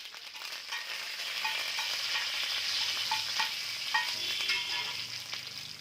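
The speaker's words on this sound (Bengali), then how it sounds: "এবারে ফ্লেভারের জন্য আমরা একটু কারি পাতাটা অ্যাড করব" Curry leaves hit hot oil on a tawa, setting off a steady, fairly soft frying sizzle that holds evenly throughout, with a few light crackles on top.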